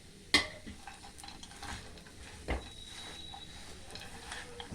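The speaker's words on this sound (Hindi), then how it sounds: "अब गैस बंद करके इसे अच्छी तरह से इस तरह से मिला लीजिए" Date and dry fruit burfi mixture being stirred in a pan with poppy seeds and chopped pistachios, heat switched off: a sharp utensil knock, then soft scraping and light clatter, faint and close, with one more knock partway through.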